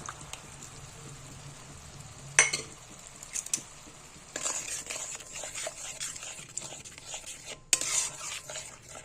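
A spoon scrapes and stirs cashew and melon seed paste into hot oil in a pot for cauliflower roast, with intermittent metallic clinks and soft frying underneath, fairly quiet and close.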